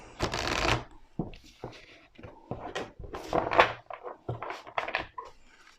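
Tarot cards shuffled by hand in rapid riffling bursts, close and fairly loud, with short pauses between several rounds of shuffling and no talking.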